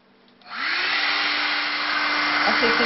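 A hair dryer runs steadily while drying paint coated with crackle varnish on glass, switching on after a brief pause and then blowing loud and constant at close range with no talking.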